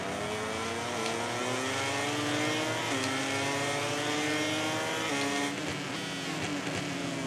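Racing motorcycle engine in MotoGP 18 on a qualifying lap, revving hard under full throttle with rising and shifting pitch, loud and close throughout with no talk.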